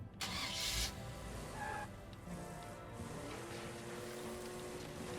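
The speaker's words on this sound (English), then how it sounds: "Grab my favorite little white car." A small white car's engine starts in the video game State of Decay 2, with a short burst at the start settling into a quiet, steady idle rumble under faint background game ambience.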